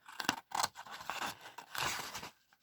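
Scissors cut around paper sewing templates along a seam allowance line, giving quiet close snips and rustling slides in a short run of irregular strokes.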